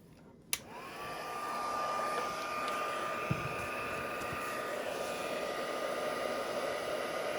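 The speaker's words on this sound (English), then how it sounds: "And I'm going to heat set this embossing." A heat tool blows steadily to set embossing powder on foil, a loud continuous whooshing hiss that starts abruptly after a sharp click and a faint tone, with small taps partway through, no talking.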